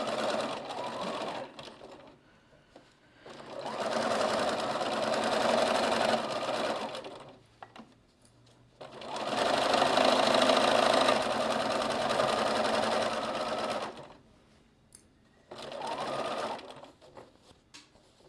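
Sewing machine stitching a quilt, running close to the pins, in three long bursts of steady whirring with short pauses between them, plus a brief final run.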